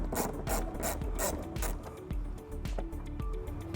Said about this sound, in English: we're gonna go ahead and remove this screw using a 10mm socket.